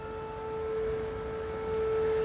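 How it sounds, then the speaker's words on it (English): Sustained siren-like tone at 5am in China, a steady high wail that holds one pitch with a fainter overtone above it, moderately loud over a hissy background, with no voices. "It sounds a bit like a siren."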